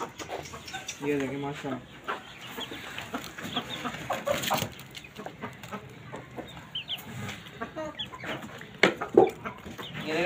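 Young chicks cluck and chirp close by as they are fed grain and water, a busy, irregular chorus of short calls with a person talking over them.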